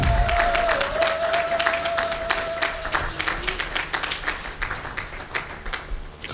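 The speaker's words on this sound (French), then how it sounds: "clap your hand for Est-ce que Jesus?" A church congregation clapping for Jesus, dense sustained applause with crowd noise, fairly loud and continuous, a brief voice heard early on.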